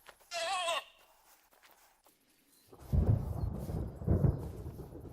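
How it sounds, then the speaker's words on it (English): Thunder rolling in the hunting game theHunter: Call of the Wild, a low rumbling swell arriving after a brief animal bleat, rising twice and fading, moderately loud. "Ooh, thunder."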